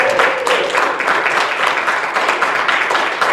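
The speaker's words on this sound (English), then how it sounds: "round of applause" Steady audience applause fills a church hall after a live performance at Unity Church in Livonia, dense continuous clapping at close range with no voices.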